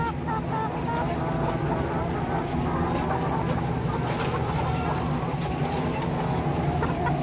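Many chickens in a large multi-tier poultry house cluck and murmur in a dense, continuous din, with steady background machinery hum and no clear single bird standing out.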